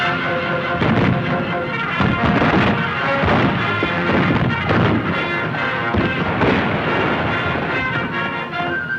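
Gunfire from a frontier battle at a river in a Gary Cooper western, loud repeated rifle shots and booming blasts overlapping densely with orchestral music, and shouting voices mixed in.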